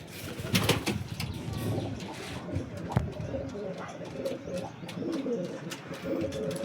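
Pigeons coo softly at a home loft among ambient rustling and scattered clicks, with low, muffled coos repeating close by and faint voices in the background.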